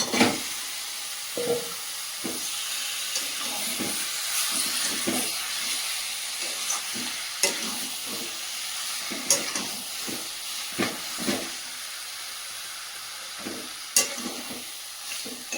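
Meat frying in spiced oil in a home kitchen pan: a loud, steady sizzle and hiss runs throughout, with frequent irregular scrapes and clatters from stirring close by and no talk.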